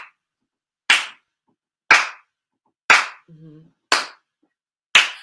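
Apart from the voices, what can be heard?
clapping hands along with movements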